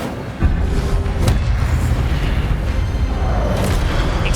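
Incendio fire spell cast in Hogwarts Legacy, a sudden loud whooshing burst that flares up and keeps roaring as a dense, rumbling blaze with a couple of sharper cracks, alone without talk.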